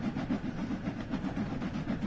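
A steam train running in the video game Train Sim World 2023 gives a continuous, loud rumbling chuff with a steady, rapid pulsing rhythm.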